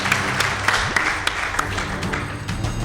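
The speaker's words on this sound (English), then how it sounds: "Please give them a round of applause." Scattered applause from a school audience for the Kagumo High debate team, moderately loud with distinct individual claps over a background murmur.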